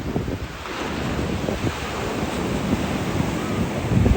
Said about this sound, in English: The waves are a bit rough today,